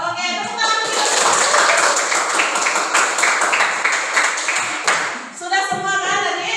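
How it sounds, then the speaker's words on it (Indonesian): Schoolchildren in a classroom applaud together, a dense, steady patter of many hands clapping for a few seconds, bracketed and partly overlapped by a voice speaking. "Oke, tepuk tangan dulu."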